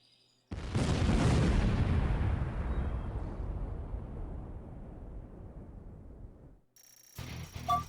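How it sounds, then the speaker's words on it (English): Two grenades detonate in the Command & Conquer Remastered strategy game: a single heavy, loud blast that hits suddenly and rumbles away over about six seconds, followed by quieter game sound effects. "It's a pretty big explosion for 2 grenades"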